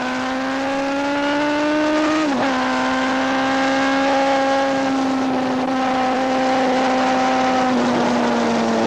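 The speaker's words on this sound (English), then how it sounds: "I'm coming out of turn 9, I'll pull a wheelie for you." A 1979 superbike racing motorcycle engine revs hard and loud coming out of turn 9 on a wavering high whine, with a brief dip midway then climbing again, no talk over it.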